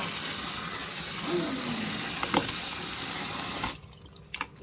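Canned black beans are rinsed under a running kitchen tap, a steady close hiss of water splashing for several seconds before the flow stops and a few drips and clicks follow.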